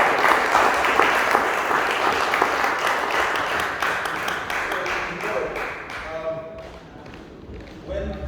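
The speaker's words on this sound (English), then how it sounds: "So round of applause" An audience at a university international awards dinner claps in a dense round that fades toward the end. A voice briefly talks underneath, and faint music notes creep in near the close.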